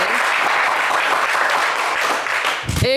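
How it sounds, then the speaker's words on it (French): Studio audience at a French TV game show claps in a full, sustained round, with a brief electronic jingle cutting in at the very end. "je voudrais qu'on applaudisse bien fort"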